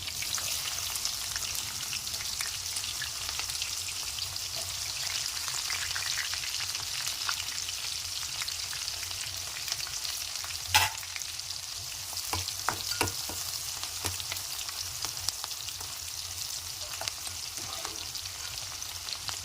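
Onions and green chillies frying in a pan for egg curry give a constant crackling sizzle, with scattered louder pops and stirring scrapes in the later part.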